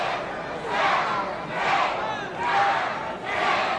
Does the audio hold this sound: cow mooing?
no